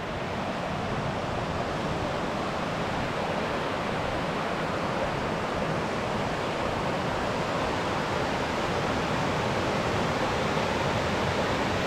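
Water rushes steadily where two creeks meet on Multnomah Creek, a broad, even roar close by that holds constant throughout with no voices.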